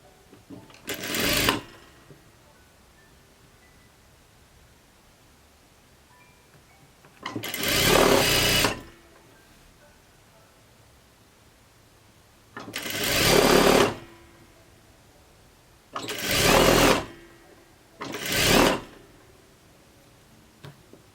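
A sewing machine stitches a summer jumpsuit seam in short bursts, five separate runs of rapid mechanical whirring with quiet pauses between, close and fairly loud, no talking.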